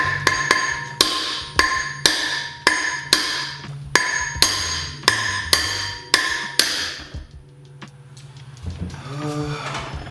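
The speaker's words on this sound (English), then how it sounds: "I'm hammering on the inner race." Sharp metal hammer blows strike an impact socket on an extension set against the inner race of a wheel bearing, about a dozen loud ringing hits in an uneven rhythm, then fainter shop clatter.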